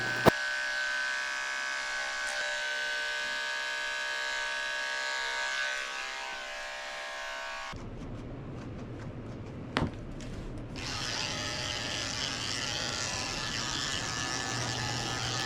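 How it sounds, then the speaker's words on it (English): Electric clippers with a 30 blade buzz steadily while shaving the paw pads of a Shih Tzu during grooming, a close, continuous hum that stops briefly midway and then resumes. "I'm shaving the pads of his feet out with a 30 blade"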